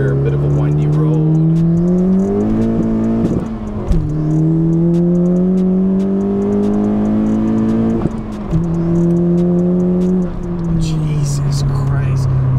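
A 2016+ Honda Civic fitted with an ACT HD street clutch pulls hard in second gear on a winding road, engine droning loudly and rising in pitch with brief dips between pulls, heard from inside the cabin.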